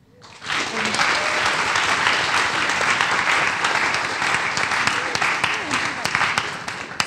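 After a brief quiet start, a crowd breaks into loud, sustained applause for the panelists of a film screening discussion, dense clapping holding steady to the end.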